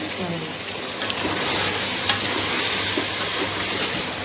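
Chickpeas, green peas and chopped vegetables sauté in a pan for vegetable biryani, a dense steady sizzle with faint stirring clicks, as someone speaks quietly in the background.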